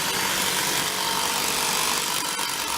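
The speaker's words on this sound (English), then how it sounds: "We're just drilling the steel all in here." A power drill bores steel pins into a concrete walkway slab outdoors in snowy conditions, giving a loud, continuous, harsh grinding whir close to the microphone.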